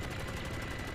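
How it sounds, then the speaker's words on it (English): Tommy guns firing in a One Piece anime episode, a dense, rapid burst of automatic gunfire rattling continuously at a moderate level throughout. "The Tommy guns."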